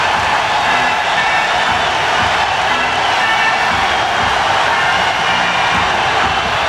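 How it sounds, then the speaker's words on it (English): A basketball arena crowd at a 1993 NBA playoff game between the Cavaliers and the Nets, on its feet cheering in a loud, steady roar that holds throughout. "This crowd is on its feet."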